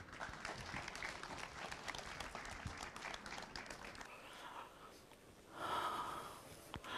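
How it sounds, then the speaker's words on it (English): Audience applause at the DefCamp 2018 security conference as a speaker is called on stage, a steady crowd clapping lasting several seconds, moderately distant, fading toward the end before a louder swell. "Let's give him a big round of applause"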